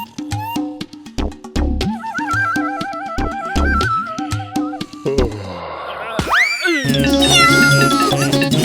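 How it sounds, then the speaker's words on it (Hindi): Cartoon cat meowing in a children's robot-boy action show, repeated wavering meows over busy music and sound effects that builds into louder, sweeping tones near the end. "यहाँ बिल्ली है"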